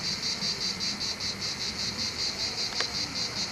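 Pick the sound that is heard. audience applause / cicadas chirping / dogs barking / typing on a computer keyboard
cicadas chirping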